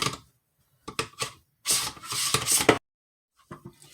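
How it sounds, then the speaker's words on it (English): Potatoes being run across a kitchen slicer blade, giving scraping, rasping strokes in short bursts: a few quick passes, then a longer sustained stretch, then a brief final pass after a pause. "Ready to go ahead and slice up our potatoes."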